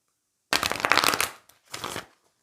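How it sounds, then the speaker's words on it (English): Playing cards riffle in two quick bursts, a longer crisp flutter followed by a shorter one, close up with no talking. "Sorry, I need to shuffle."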